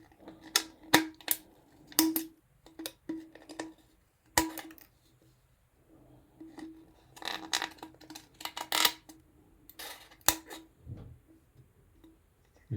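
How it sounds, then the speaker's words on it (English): Scissors snip through plastic for an air-powered rocket in a series of sharp, close clicks and cuts that come in irregular clusters with short pauses between them. "then just grab yourself some nice pair of scissors. Just cut it a little bit more."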